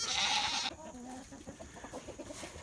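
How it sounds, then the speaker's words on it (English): Farm hens cluck in a low, broken series of soft calls after a brief loud squawk at the start, several birds close by in a quiet pen. "I keep losing count, 20 to 22 of my hens"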